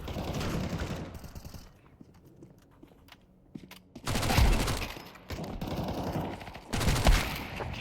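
Gunfire from an AWP sniper rifle in Counter-Strike 2, with loud, sharp broadband bursts at the start and again near four and seven seconds, separated by quieter stretches of game ambience and movement.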